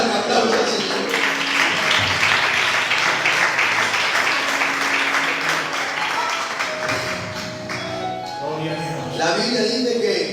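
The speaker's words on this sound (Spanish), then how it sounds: "Dale un aplauso al Señor." A church congregation breaks into broad applause, dense clapping filling the room for most of the stretch with voices mixed in, tapering slightly before a final swell.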